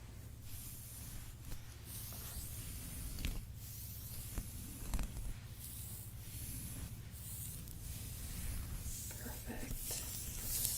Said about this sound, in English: Spray that with some heat protectant.